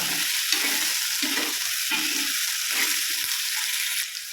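Tomato and curry leaves sizzle steadily in a hot pan, with a spoon stirring through them in repeated low scraping strokes, close and alone.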